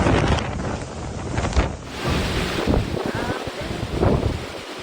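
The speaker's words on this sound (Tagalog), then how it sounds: "Malakas na hangin naman ang kasabay ng ulan sa bayan ng Bani sa Pangasinan." Strong gusting wind from Super Typhoon Uwan buffets the microphone over a dense hiss of heavy rain in Bani, Pangasinan, Philippines, loud and continuous with surging bursts.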